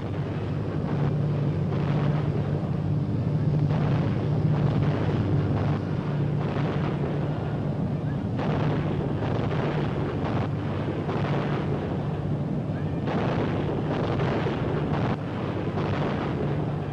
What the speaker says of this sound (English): A continuous curtain of fire must be maintained to save this British convoy.